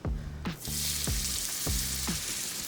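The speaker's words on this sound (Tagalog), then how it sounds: "Steak na tayo. Lagay tayo ng konting mantika." Steak hits a pan with a little cooking oil and sizzles loudly and steadily up close, a bright continuous frying hiss with a few soft clunks of the pan underneath.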